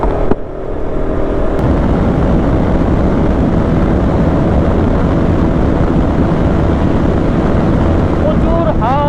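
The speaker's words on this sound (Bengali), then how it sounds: "প্রচুর হাওয়া হচ্ছে, প্রচুর হাওয়া।" Strong wind roars steadily into the microphone of a motorbike rider in the evening, a loud continuous rumble filling the whole stretch with only faint sounds beneath.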